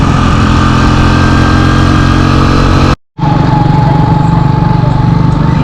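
Motorbike engine screaming loudly and steadily up close on a busy scooter-and-car road in northern Vietnam, cutting out for a split second before droning on.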